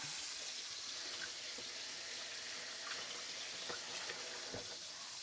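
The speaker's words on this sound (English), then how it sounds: "I'm going to rinse this plate." A kitchen tap runs steadily as a plate is rinsed under it, a continuous close hiss of water with a few faint clinks.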